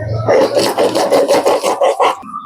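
Green chillies and spices being ground together on a grinding stone, a steady rhythmic rasping scrape repeating in quick strokes, close and fairly loud, for a Bengali bhetki fish paturi paste.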